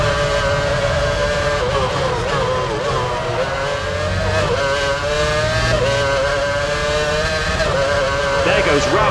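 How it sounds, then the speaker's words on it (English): A Formula One car screaming at full throttle in the PS3 racing game Formula One Championship Edition at Silverstone, a loud sustained high-pitched engine wail with shifting revs, under a race commentator's voice. "There goes Ralf Schumacher full throttle past the commentary box."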